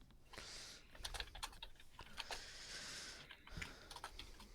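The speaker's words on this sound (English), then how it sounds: "He's now furiously typing out his demands." Furious typing on a computer keyboard, rapid bursts of close, crisp keystrokes with short pauses between flurries, quiet and without talk.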